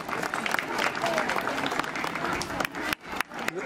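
A crowd at a school race event claps for a young participant, a steady burst of applause with voices mixed in, thinning out and breaking off near the end.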